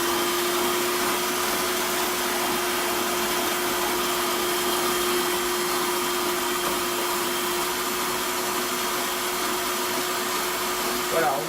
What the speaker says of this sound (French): On commence par mettre les blancs d'œufs et d'allumer le robot à mi-vitesse à peu près